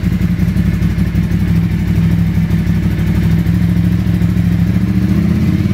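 A Ducati Paso motorcycle engine idling at about 1500 RPM, a loud, close, steady low throb with even pulsing and mechanical clatter, unchanging throughout with no voices.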